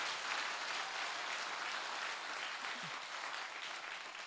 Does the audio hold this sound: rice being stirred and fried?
no